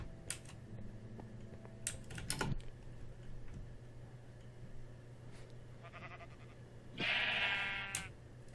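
Sheep bleat in the video game Space Astronomy, a clear close bleat standing out near the end, with keyboard typing clicks and a low steady hum earlier.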